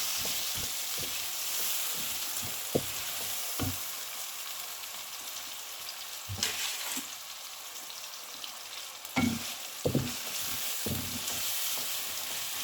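Potatoes and onions frying in a pan make a continuous close sizzle, broken by occasional scraping stirs and knocks of the spoon against the pan.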